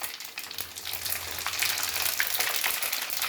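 Mustard seeds and cumin crackle and pop in hot oil for amla pachadi, a close, continuous sizzle that grows slightly louder and busier over a few seconds.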